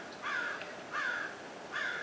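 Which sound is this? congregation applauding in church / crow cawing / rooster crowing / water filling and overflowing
crow cawing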